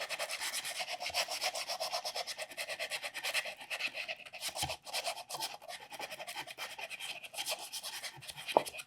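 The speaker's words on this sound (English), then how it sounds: "I'm just sanding all the way around the mortise to kind of clear out any extra material" Steady, continuous rasping of rolled sandpaper rubbing back and forth inside a wooden mortise, close up and fairly loud, with a brief sharper scrape near the end.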